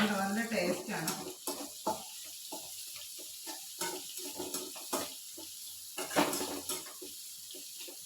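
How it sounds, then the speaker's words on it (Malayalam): Fish fries in a pan in a home kitchen, a faint, intermittent sizzle broken by short bursts of clatter and stirring. "മീൻ വറക്കാനായിട്ട് ഇട്ടു."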